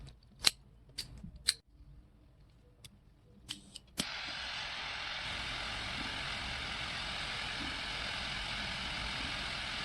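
A Perfect Cutter cigar cutter snipping a CAO Brazilia 5x56 cigar, a few sharp close clicks and snips in quiet surroundings, followed by a steady low background hiss.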